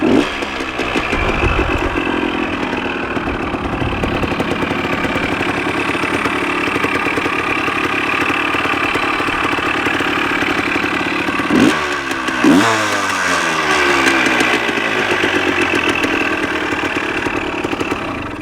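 A Yamaha DTMX 175 motorcycle engine runs outdoors, a loud, continuous buzzing idle with a brief dip and surge partway through, close to the recording point.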